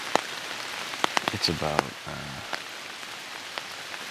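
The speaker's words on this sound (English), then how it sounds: "It's raining, as you can hear." Steady rain falls on Vermont woods before dawn, a soft continuous hiss with scattered sharper drip taps, heard close from a tree stand while a person speaks briefly.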